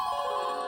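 A phone rings in a short, steady electronic tone with sustained harmonic pitches, fairly loud and alone with no talking.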